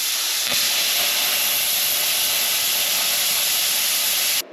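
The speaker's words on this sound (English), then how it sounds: "Sean's going to slice this mid plate up here for us with the plasma cutter" A plasma cutter slices a steel mid plate for an OBS drag truck, giving a loud, continuous harsh hiss that holds steady for about four seconds before cutting off abruptly.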